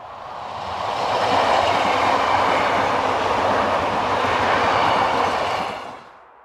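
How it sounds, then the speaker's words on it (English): A Belgian AM76 four-car electric multiple unit passes near Antwerpen Noorderdocken station, swelling into a loud rushing roar of wheels on rails, holding for several seconds, then fading quickly. "as we see this type AM76 4-car multiple unit heading a train for Antwerpen Centraal"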